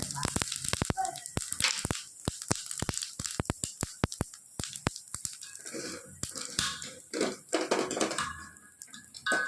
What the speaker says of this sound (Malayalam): നമ്മുടെ എണ്ണ ചൂടായിട്ട് വന്നിട്ടുണ്ട് ഞാനിപ്പോൾ കുറച്ച് ജീരകം ഇട്ട് കൊടുക്കുന്നുണ്ട്